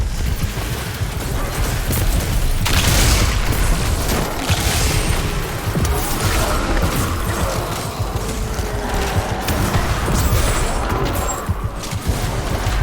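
Void orb from a rocket launcher in Destiny 2 bursting over a group of enemies, a dense roar of explosions and gunfire that stays loud and continuous across the whole stretch.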